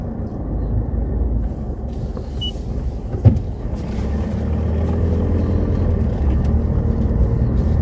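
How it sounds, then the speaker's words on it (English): A car driving around town on flat ground in calm weather, with a steady close engine and road rumble from inside the cabin, one brief knock partway through, and the drone slowly swelling as it goes. "We'll just go for a quick drive and we'll just do a little drive around town."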